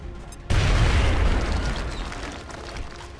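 A grenade blast on a car in X-COM: Enemy Unknown, bursting loud and sudden with a deep boom, then a long rumbling roar and crackle that slowly fades.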